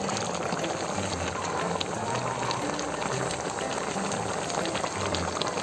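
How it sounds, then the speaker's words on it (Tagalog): A pot of coconut-milk fish stew with moringa and lemongrass bubbles at a steady rolling boil, a dense close hiss of popping bubbles with no one talking. "Mga idol, kumukulo na."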